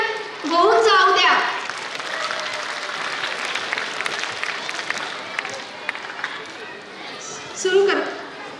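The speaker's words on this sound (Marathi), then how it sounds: "तर आमच्या या बालकलाकारांसाठी जोरदार टाळ्या होऊन जाऊ द्या" Children performing at a school's silver jubilee cultural festival are met with a crowd's loud, sustained clapping that fills the hall. A voice talks over the applause, and cheers rise at the start and again near the end.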